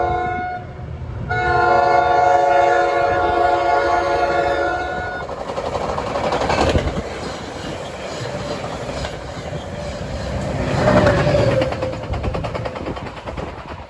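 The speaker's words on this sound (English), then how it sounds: "Shoving fast is a Metro North painted F40 PH-3C 4910." A Metro North painted F40PH-3C locomotive, number 4910, sounds a loud, sustained horn blast while shoving a train fast through Ramsey station on New Jersey Transit. The rumble and rail clatter of the passing train follow, with no talk.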